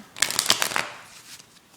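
A deck of playing cards is shuffled close up during a magic trick, a quick riffle of crisp papery flutters lasting under a second, then fading to quiet handling.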